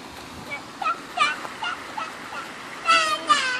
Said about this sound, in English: there's lots of ducks coming our way